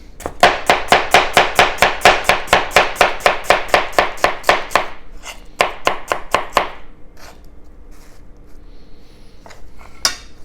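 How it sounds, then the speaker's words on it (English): A chef's knife julienning a sweet onion on a cutting board: a fast, even run of about twenty loud, close chopping strokes, then a few slower cuts and a lone final knock. "We'll just julienne this. It's the sweet onion."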